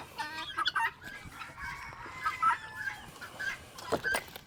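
Guinea fowl calling while being fed at a roost on a farm, a series of scattered squawks and clucks of moderate loudness over quiet outdoor background.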